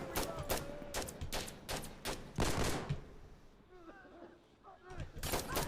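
Gunfire in the Insurgency: Sandstorm video game, a series of loud sharp shots in quick bursts, then a short lull with talk, then more shots.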